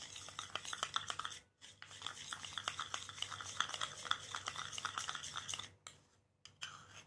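A spoon scrapes and clinks steadily in a bowl, stirring a honey and sugar skin pack. Quick repeated taps run throughout with two short pauses near the end, and no voices are heard.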